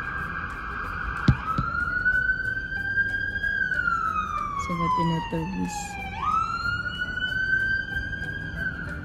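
A police car siren wails through downtown Brampton street traffic, its tone sweeping slowly up and down for several seconds, loud and fairly close, while a person speaks briefly over it.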